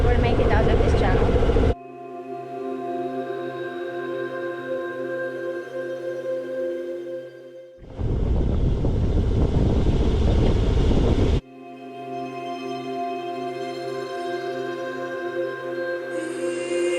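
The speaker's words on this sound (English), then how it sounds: "I'm motoring out of Spanish Water Channel" A small boat motor drones steadily while motoring out of Spanish Water channel in Curaçao. The engine makes a continuous harmonic hum, broken by loud bursts of wind buffeting the microphone.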